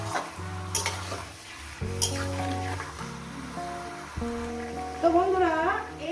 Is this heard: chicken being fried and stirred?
yes